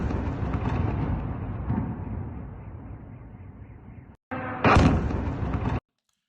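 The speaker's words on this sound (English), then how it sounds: "a huge explosion from a Russian drone slamming into some sort of building" A Russian drone explosion strikes a building in Kharkiv at night, with a rumbling roar that cuts out briefly and is followed by a loud, sharp burst and blast noise that ends abruptly.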